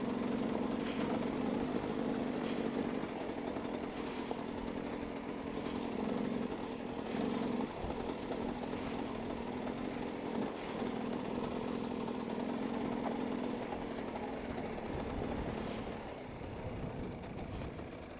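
A motorcycle engine runs steadily while being ridden along a trail, a continuous buzzing drone with small fluctuations in throttle, fairly close and without speech.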